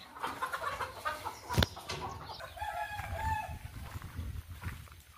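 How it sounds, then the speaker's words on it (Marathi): Chickens roaming freely in a shed, clucking and murmuring close by with one sharp call, some crowing and soft background noise. "पाहू शकता आपल्या कोंबड्या अशा शेडमध्ये मोकळ्या फिरतात."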